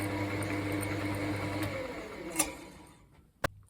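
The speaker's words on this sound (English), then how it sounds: "I can go back down to the slow speed, and that's where I will actually turn it off" Thirty-year-old Charnwood wood lathe, freshly repaired, humming at slow speed with a steady motor whine that winds down and fades after switch-off, followed by a couple of sharp clicks, quiet and close.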